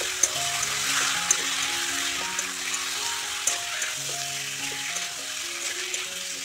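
Chicken pieces fry in a pan with potatoes to follow, a steady close sizzle with occasional pops and light clinks, and no talking.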